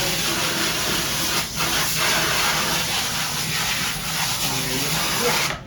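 Steady hissing spray, loud and close, running continuously with brief dips, as water is jetted from a nozzle onto a silkscreen.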